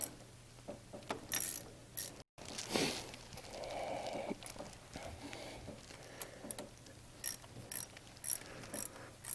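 A hose clamp being tightened on a lower radiator hose with a heater, heard as a series of close, quick ratchet clicks in short bursts with pauses between them.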